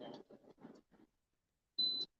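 A few quiet electronic blips from a toll transponder at a bridge toll crossing are followed, after a short pause, by one longer, clear electronic beep.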